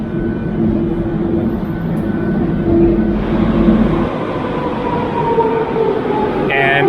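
Metro train rumbling into a platform in a Greek subway station, a loud steady rolling roar with faint brake squeals and a voice speaking briefly over it.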